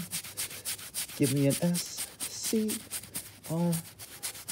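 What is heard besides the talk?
scrubbing a mattress with cleaner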